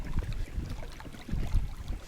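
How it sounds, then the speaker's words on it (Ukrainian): Wind buffets the microphone with a low, uneven rumble during a pike spinning-fishing outing, gusting in waves throughout, with no voices. "Вітер дує"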